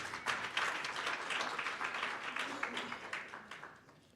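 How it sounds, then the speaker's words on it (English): Warm applause from an audience at an accountancy gathering, a fairly near, crisp patter of many hands that swells early and gradually tapers off toward the end. "He deserved another hand of applause."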